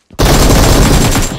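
Rapid burst of gunfire from a double sniper rifle in a mobile shooter game, loud and close, a dense sustained volley of about a second with no talk over it.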